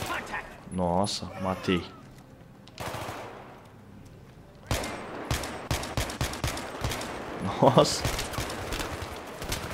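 Gunfire in the video game Battlefield 3, bursts of rapid automatic shots and single cracks scattered between pauses, with excited voices talking over the action.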